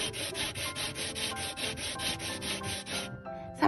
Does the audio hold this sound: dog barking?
no